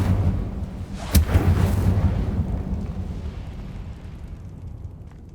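An Incendio fire spell blast in the video game Hogwarts Legacy: a loud, close whooshing burst of flame with a sharp crack about a second in, then a roaring rumble that slowly fades out.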